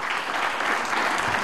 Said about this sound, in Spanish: Así que unas palmas, por favor, para Walter.